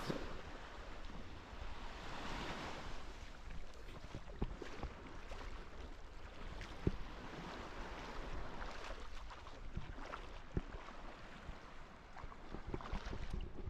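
Sea waves wash steadily onto the sand at Stogi nudist beach in Gdansk, a continuous broadband surf with wind noise and scattered sharper splashes, fairly close and moderately loud, with no talking.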